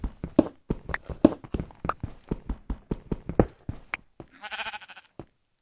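In Minecraft, a steady run of sharp, evenly spaced taps like footsteps gives way to a single short, wavering sheep bleat near the end, followed by silence.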